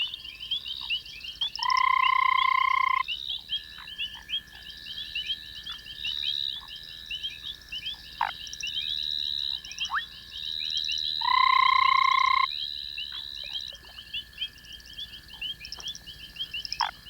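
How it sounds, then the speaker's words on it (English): Foam frogs nesting in a tree above a pond at night give repeated croaks and clicking calls, including a few longer sustained tones, against a steady chorus of high insect-like trilling. "In a tree over the pond, a pair of foam frogs are making their nest."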